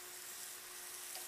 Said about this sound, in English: you can hear it starting to sizzle now